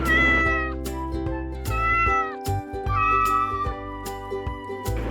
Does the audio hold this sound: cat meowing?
yes